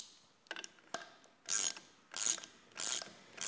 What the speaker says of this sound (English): Go ahead and start the prop nut, and then we'll finish it off with the socket.